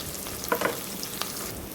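Finely chopped shallots frying in hot oil tempering for a chicken curry: a soft continuous sizzle with a couple of brief utensil clicks, close and moderately quiet.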